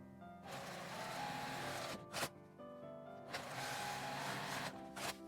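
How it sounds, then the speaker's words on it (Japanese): Sewing machine edge-stitching fabric for a folded 3D face mask, a close, steady mechanical whir in sustained runs broken by brief pauses and clicks. "端ミシンをかけます。"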